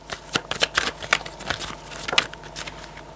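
Tarot cards are handled, snapped and laid down in a quick flurry of crisp slaps and flicks, close and fairly soft, with no talking.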